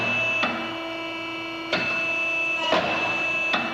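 An RCP 8511 A 5 automatic tube expanding unit cycles its arbor from a foot pedal, giving four sharp mechanical clacks at irregular intervals over a steady machine hum with a faint tonal whine.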